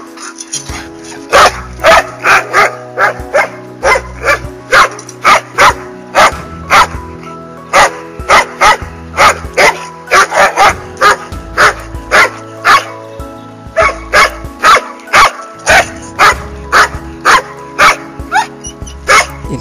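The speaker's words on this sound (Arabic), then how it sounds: "الكلب بيصدر الصوت ده ومعناه انه حاسس بالوحدة او انه فاقد حد عزيز عليه" A dog barks in loud, rapid, repeated bursts, roughly two per second for nearly twenty seconds, close to the listener with a few whimpering yips mixed in and no talking.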